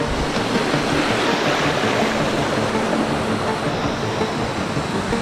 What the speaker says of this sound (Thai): รูดบริเวณนี้จะเป็น ลำธารส่วนใหญ่เลยนะครับ ก็จะตัดข้ามน้ำแบบนี้ครับ